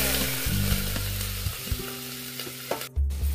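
Cumin, mustard seeds and chillies frying in oil in a pan while cooking brinjal curry, a steady close sizzle with stirring scrapes and a few clinks, no talking.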